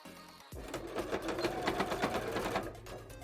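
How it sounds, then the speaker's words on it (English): A sewing machine stitches up the top end of a fabric casing on a handmade jellyfish bra. It starts abruptly after a brief pause and runs as a close, steady, rapid whirr of stitching for nearly three seconds. "we just need to go up the casing at this end, since this is the top end, and sew it up"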